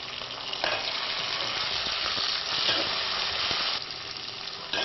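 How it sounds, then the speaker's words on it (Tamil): Tomatoes sizzle as they go into a pan of browned onions for semiya pulav, a steady crackling fry with a louder surge near the start and stirring scrapes throughout. "ஸோ வெங்காயம் ப்ரௌன் ஆனதுக்கப்புறம் டொமேட்டோ ஆட் பண்ணிக்கிறேன்."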